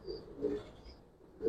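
Giribaz pigeons cooing in a loft, a few soft low coos close by with a faint higher call, no voices.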